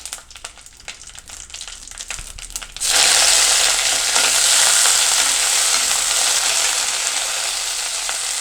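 Curry leaves drop into hot oil already holding popping mustard seeds, setting off a sudden loud burst of sizzling that holds as a steady, close hiss after some light crackling and handling noises.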